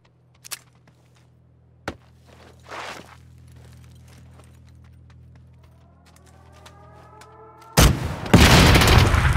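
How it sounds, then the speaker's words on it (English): A rocket fired in the battle royale game PUBG, heard as a few scattered distant booms and footsteps before a sudden loud, sustained roaring blast near the end. "He shot the rocket, guys."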